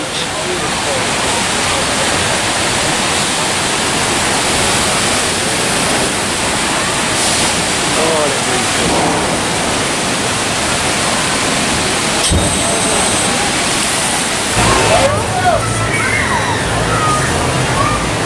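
Rushing, churning water on the Smoky Mountain River Rampage raft ride at Dollywood fills the scene as a steady, loud roar of splashing rapids, with faint voices underneath.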